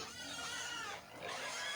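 Pigs being raised in a pen oink and squeal together in a loud, continuous, close chorus while they are given vitamins. No one speaks.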